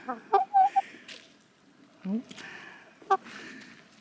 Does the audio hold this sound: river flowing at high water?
no